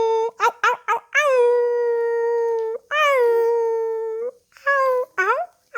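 A dog howls and yips in a sequence of short rising calls followed by long sustained wailing tones, clear and close.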